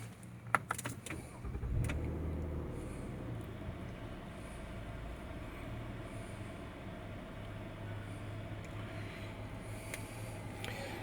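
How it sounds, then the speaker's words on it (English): A 2017 Nissan Maxima SR engine starts with a brief crank after a few clicks, then settles into a steady low idle hum that continues evenly and fairly quietly. "Now let's start this car up."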